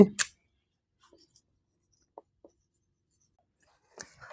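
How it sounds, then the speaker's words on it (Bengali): Chalk or pen writing in short, faint strokes, a few scratchy marks spread across a quiet room, with a brief voice sound at the end. "তাহলে যদি একটু লিখি"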